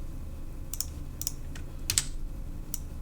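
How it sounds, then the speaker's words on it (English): Computer keyboard typing in a quiet room: a handful of sharp, separate key clicks spread unevenly over a few seconds, with no voices. "Let's type this in"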